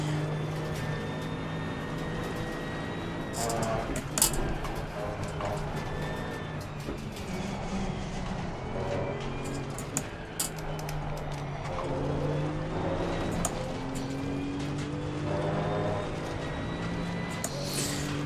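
A GT2 race car engine runs through flying laps in Assetto Corsa Competizione, its steady harmonic drone rising and falling with shifts and corner exits, close and loud throughout, with brief sharp clicks and bumps over a lumpy surface.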